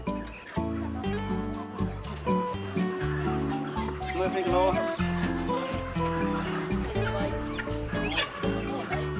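Chickens cluck and squawk at a chicken trader's house in rural Cambodia, a busy jumble of close bird calls over background noise.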